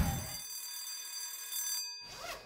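Telephones ringing inside a school's phone locker, a bright, steady bell-like tone with sustained high harmonics, heard fairly close for about two seconds before a brief break and a second burst.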